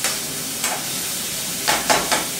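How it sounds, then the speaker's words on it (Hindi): Onions fry in hot oil with cumin and dried red chili, a steady sizzle broken by four short louder bursts as the pan is stirred, close and fairly loud with no talk. "अभी प्याज को भुनेंगे सही से।"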